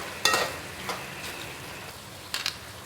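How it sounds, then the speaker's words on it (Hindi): Maash dal roasting in a pan with ground garam masala, black pepper and dried fenugreek, a faint steady sizzle broken by a few quick stirring scrapes, no talk. "ये डाल के इसको मैं 2 से 3 मिनट तक भूनूंगी अच्छी तरह से"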